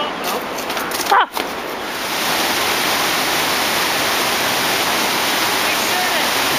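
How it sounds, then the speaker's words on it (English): Waterfall about a hundred feet below a bridge near Rio Negro, Ecuador, a loud steady broadband roar, briefly interrupted near the start by a passing clatter. "about 100 feet down water, waterfall"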